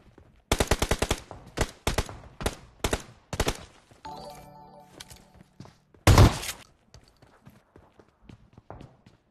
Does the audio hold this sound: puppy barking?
no